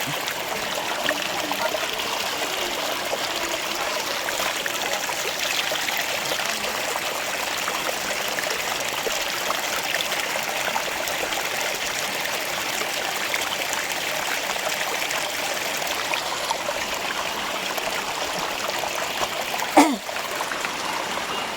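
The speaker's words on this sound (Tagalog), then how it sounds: "Tubod man siya tubod." Spring water flowing steadily in a stream, a continuous broadband rush and trickle heard close and alone, with one brief sharp knock near the end.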